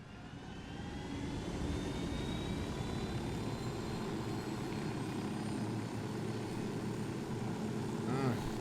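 A helicopter in the video game Ghost Recon Wildlands takes off with a steady, droning engine and rotor roar that holds at a constant level throughout, with no speech.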